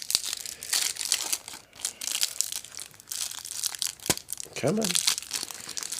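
Foil booster packs of the Transformers trading card game, wave 4 Siege II, are torn open and crinkled, giving loud close crackling and tearing bursts, with a brief spoken remark partway through.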